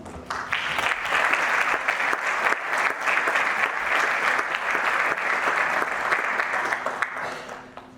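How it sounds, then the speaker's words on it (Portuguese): Sustained audience applause at a pediatric oncology clinical trials conference in Coimbra, steady and dense for about seven seconds, welcoming doctors to the stage before fading out. "Bem-vindos, um aplauso."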